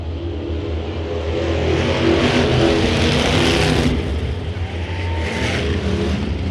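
Race cars roar around the Bakersfield Speedway track, engines loud and sustained with rising revs and passing swells as cars drive hard into a turn.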